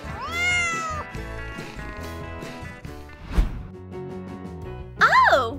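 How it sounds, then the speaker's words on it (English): A kitten or cat meows several times close by, drawn-out rising and falling cries at the start and a louder one near the end, with a person talking softly between them. "It's time to play with a kitty."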